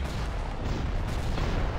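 Capital ship main guns fire in Star Wars Empire at War with the Awakening of the Rebellion mod, a dense continuous barrage of heavy booming blasts with deep rumbling low end throughout.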